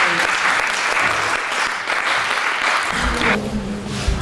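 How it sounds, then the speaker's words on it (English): Steady, full applause from a church youth congregation in Rotterdam, sustained clapping throughout with a faint low hum near the end. "So can you please receive him with a clap of"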